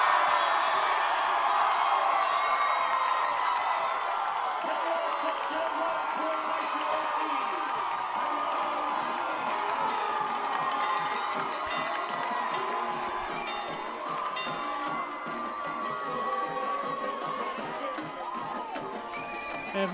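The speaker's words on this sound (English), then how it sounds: "Listen to this crowd below us." A football stadium crowd at a high school game roars after a touchdown, a dense, sustained wash of cheering and shouting heard from above that holds steady and slowly eases, with a commentator's voice mixed in.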